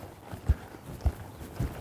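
A horse lopes to the right under a rider, its hoofbeats landing as three dull, evenly spaced thuds against a quiet outdoor arena background.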